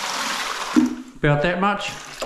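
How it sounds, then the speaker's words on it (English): Water poured into a bucket for a sand and cement tiling mix, a steady rushing flow filling the first second before someone speaks briefly over it while the pour continues faintly. "You pour in your water"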